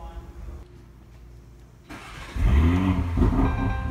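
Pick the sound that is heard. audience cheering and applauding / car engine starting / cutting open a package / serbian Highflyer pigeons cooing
car engine starting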